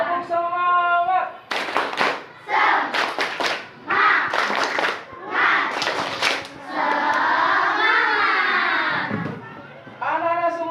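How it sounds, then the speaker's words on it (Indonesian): Schoolchildren in a grade 5 Islamic education class chant and clap a rhythmic spirit clap together, with bursts of sharp, fast group clapping between loud unison shouted and sung phrases, close and energetic. "Tepuk semangat."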